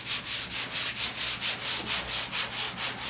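Worn sandpaper rubs back and forth across a 1968 car's bedside panel in steady, evenly spaced strokes, about four per second, a close, hissy scraping with no voices.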